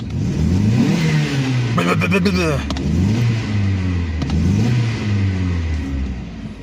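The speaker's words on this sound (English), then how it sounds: "So, yeah, it misfires on me." A 1998 Dodge Neon engine misfiring revs and idles unevenly, with repeated rising and falling pitch sweeps and a rough, stuttering rhythm, close and loud throughout.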